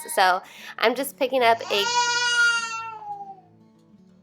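A baby cries and wails with a drawn-out, rising and falling cry close to the microphone while someone talks over it, the crying tapering off toward the end.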